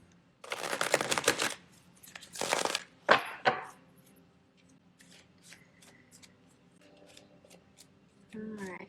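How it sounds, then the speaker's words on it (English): A deck of oracle cards is shuffled by hand in two long riffling bursts, followed by a few sharp taps and quieter card handling, close and fairly loud, with a faint voice near the end. "Let's see if I shuffle them, they jump out."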